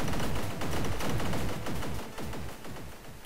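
Rapid gunfire bursts at a firing range in the Amstrad CPC game Combat School, a dense stream of sharp electronic shots firing in quick succession, loud and alone, fading slightly toward the end.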